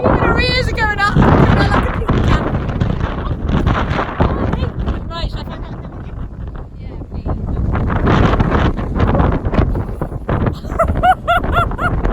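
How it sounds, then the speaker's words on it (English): Loud, gusty gale-force wind buffets the microphone throughout, with people talking over the roar. "I've never known it was so windy."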